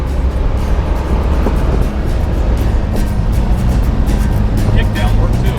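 A 1966 Buick Skylark GS convertible cruising, steady loud engine and road rumble with wind noise, continuous with slight swells, no talking.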